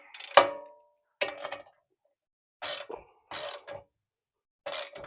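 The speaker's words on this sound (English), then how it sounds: "use a wrench to loosen the screw" Wrench loosening a screw on a car suspension arm of a Honda Accord: five short bursts of metallic ratcheting clicks, close and crisp, separated by brief silences.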